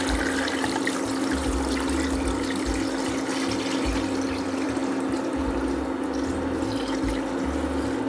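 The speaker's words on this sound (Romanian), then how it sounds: "acum o să cântăresc să vă zic exact câtă apă o să intre, apă rece" Cold water pouring steadily into a pot of pork for Romanian pork jelly, a dense continuous splashing rush with a low mechanical rattle underneath, loud and close, with no talking.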